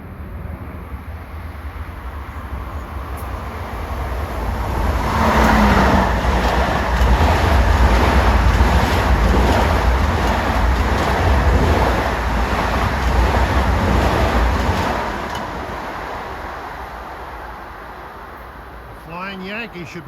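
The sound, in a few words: LIRR commuter train passing, Ronkonkoma to Penn Station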